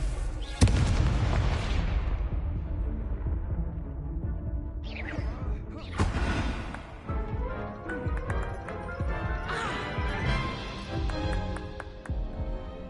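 Confringo fire-blast spells exploding in the Hogwarts Legacy video game, several loud booming blasts at irregular intervals over a continuous layer of game effects and music.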